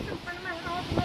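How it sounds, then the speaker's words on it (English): Strong night wind roars and buffets the microphone among trees in a brief, rough gust, with people talking over it. "Guys, it's so windy."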